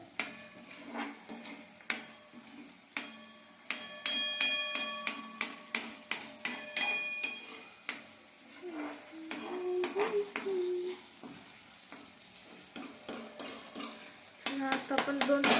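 Masala for chicken sukka roasts in a pan over raised heat while a metal spoon stirs it, with repeated ringing clanks and scrapes against the pan and a faint sizzle underneath.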